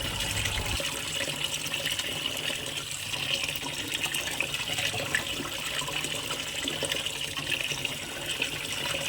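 Tap water runs steadily while raw beef is washed in a Kerala kitchen, a constant broadband splashing hiss lasting throughout with no talk.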